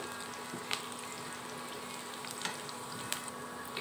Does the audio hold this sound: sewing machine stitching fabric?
no